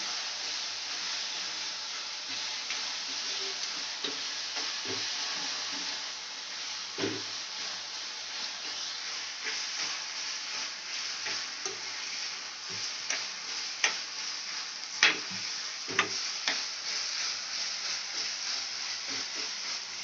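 Hand-minced keema frying in a pan, Dhaba style, a continuous close hiss of sizzling with scattered spatula clicks and scrapes throughout.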